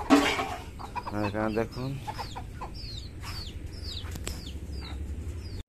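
Domestic chickens cluck and chirp in short bursts around a coop, with a rooster's deeper clucks near the start, while someone speaks briefly over the birds.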